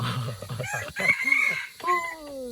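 A chicken crows several times in drawn-out, harmonic calls, fairly close and clear, with faint background sounds between the calls.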